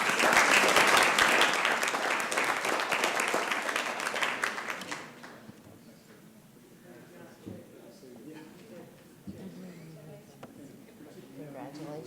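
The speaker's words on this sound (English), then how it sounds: "Let's give him another round of applause, folks." An audience in a city council chamber gives a loud burst of applause that fades after about five seconds. Quieter murmuring and scattered handling noises follow, with people talking nearby.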